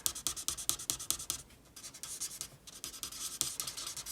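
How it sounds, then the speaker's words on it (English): A marker squeaks and scratches on paper, pressed with force to push ink away, in rapid rhythmic strokes, then a short pause, then more strokes, close and fairly quiet. "it's going to have a much more squeaky sound because I'm using some force on the paper"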